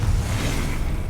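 A Confringo spell cast in Hogwarts Legacy gameplay, a dense low rumbling blast with a broad whooshing texture, loud and continuous through a short burst.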